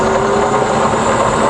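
A fully rebuilt Bridgeport milling machine runs at 120 RPM, giving a steady, close motor hum and whir with a faint tonal whine and no talking over it.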